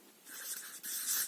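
Pen or marker writing numbers by hand on a board or page during a maths lesson, a steady close scratching stroke that runs continuously with a brief pause midway.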